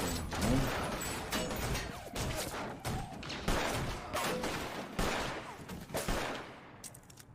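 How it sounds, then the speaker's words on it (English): Rapid gunfire from The Walking Dead video game: dense bursts of shots and impacts, loud and continuous, with a brief lull near the end. "Lots of bullets flying. That's kind of the way it is. You shoot, shoot, shoot until the danger has been eliminated."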